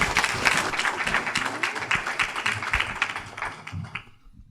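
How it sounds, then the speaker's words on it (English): Audience at a lung cancer education and awareness event in Houston breaks into lively clapping with some sharp individual claps, gradually fading out near the end. "we want to go ahead and give her a round of applause"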